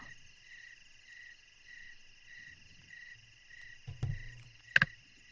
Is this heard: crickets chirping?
yes